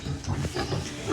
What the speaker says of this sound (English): Good morning, pigs.